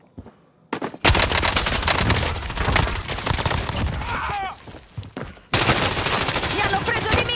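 Gunfire in the video game Call of Duty: Modern Warfare: loud sustained automatic bursts and rapid shots after a quiet start, briefly dropping off near the end before another heavy volley resumes.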